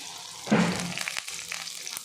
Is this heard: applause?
no